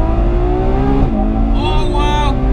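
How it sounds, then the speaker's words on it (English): Ferrari 812 Superfast front-engine V12 revving hard on the Fiorano track, a loud close engine note rising with a sharp gear shift and pitch drop, then climbing again. "I'm sure you can hear those gear shifts,"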